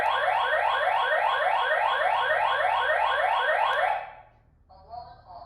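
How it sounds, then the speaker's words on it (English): An X-Sense wireless home security system alarm blares a loud, rapidly pulsing electronic warble for about four seconds, then cuts off, followed by a brief quieter electronic chirp. "Alarm on."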